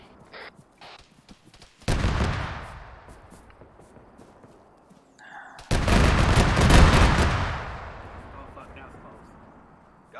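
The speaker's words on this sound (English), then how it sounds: "That's autocannon." Autocannon fire in the ArmA 3 video game lands as two heavy booming impacts several seconds apart, each with a long rolling rumble, the second louder and longer, between quieter stretches with faint radio chatter.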